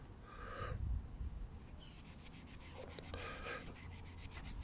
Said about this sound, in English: So give them a rub with Scotch-Brite.